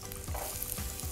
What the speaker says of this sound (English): I'll just sweat it very lightly and then add the rest of the ingredients.